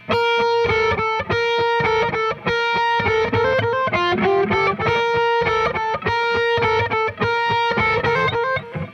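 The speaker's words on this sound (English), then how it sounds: "So right now I have chorus on my guitar, so that's all you're hearing, chorus and distortion" Electric guitar with heavy distortion, a shimmering chorus effect and delay, played as a run of sustained notes and chords, repeated notes echoing into one another.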